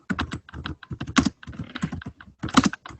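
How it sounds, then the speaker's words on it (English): Rapid, uneven clicking of keys on a computer keyboard, close by, in quick bursts with tiny pauses, no voices. "I am typing."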